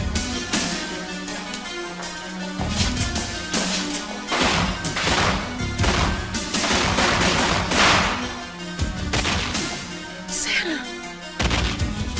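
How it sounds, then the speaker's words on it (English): Loud, chaotic bursts of gunfire and crashing impacts in a dramatic scene from the 1989 film Elves, with shouting voices mixed throughout. "running from gunfire"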